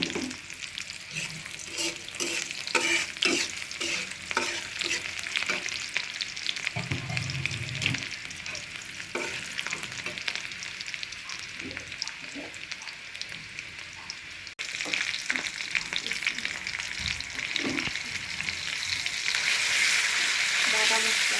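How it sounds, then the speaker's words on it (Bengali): Ground spice paste with onion and garlic fries in a home kitchen pan, giving a continuous loud sizzle with rhythmic scraping of a spoon as it is stirred, close and with no talking. "দিয়ে দিলাম পেঁয়াজ রসুন, মশলা দিলাম"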